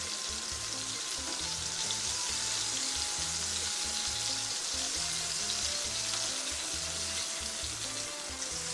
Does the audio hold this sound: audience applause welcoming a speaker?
no